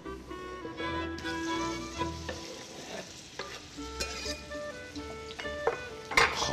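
Onion tipped into hot oil for an Armenian bozbash with chickpeas sizzles steadily while a utensil stirs and clinks against the pot, with scattered scraping and tapping over the hiss.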